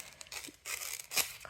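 Old, slightly worn scissors slicing paper in a few long straight strokes, producing close, dry crisp snips and rustling bursts with brief pauses between cuts.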